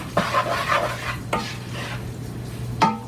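A spoon stirs beef curry in a pan over a low sizzle, with a few scraping strokes and light metallic knocks against the pan, heard close with no talking.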